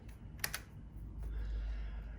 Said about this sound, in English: Press space to continue.